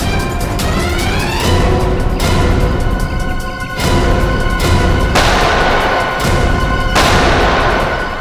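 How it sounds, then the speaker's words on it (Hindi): Heavy gunfire erupts in repeated loud bursts, with sharp cracks and booming blasts overlapping into a dense, continuous barrage. "वहां से चल रही है गोलियां।"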